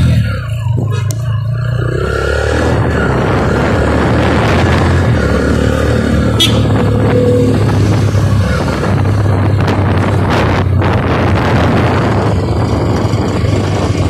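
A Yamaha YBZ motorcycle on the road around Hyderabad hums as a low, steady engine drone beneath heavy wind buffeting on the microphone. The roar stays loud and constant throughout.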